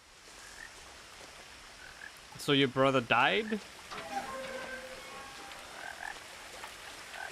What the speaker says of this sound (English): Ooh, frogs!